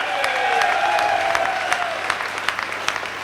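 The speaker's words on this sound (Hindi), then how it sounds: "ये तालियां कम है, तालियां कम है, ये जोरदार तालियां।" Audience applause in a hall during a Safe Shop ceremony speech, dense clapping from many people with a few sharper individual claps standing out as it thins slightly toward the end.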